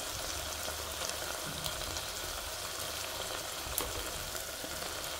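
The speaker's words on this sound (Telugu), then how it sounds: "ఈ స్టేజ్లోనే కొంచెం ఆయిల్లో మగ్గాలన్నమాట ఈ చేపలను వేసేస్తుంది." Small dry fish frying in oil with tomato for a dosakaya dry fish curry, a steady close crackling sizzle with fine spitting pops running throughout, no voices.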